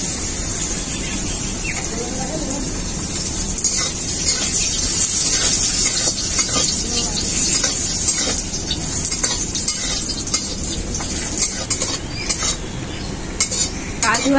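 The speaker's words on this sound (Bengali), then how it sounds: "ওই বাদাম ভাজার তেলে আমি ভেজে নেব কাজু আর কিশমিশ।" Cashews and raisins fry in leftover peanut-frying oil in a kadai, with a constant close hiss throughout and frequent clinks and scrapes of a spatula stirring against the pan.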